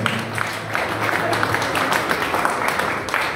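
Steady applause from a crowd at a chess tournament award ceremony in Moscow's Cathedral Mosque, many hands clapping at once in a dense, continuous patter with faint murmuring underneath.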